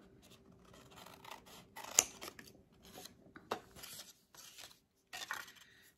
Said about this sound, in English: And I'm going to cut it up like this, leave a little area there at the bottom, and cut straight to the point